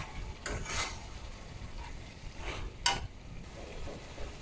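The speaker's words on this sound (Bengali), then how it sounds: "ভালো করে কষিয়ে নেব।" Shoil fish sautéed in spice paste for dopiaza, faint sizzling under a few scraping stirs of a spatula in the pan, close and quiet.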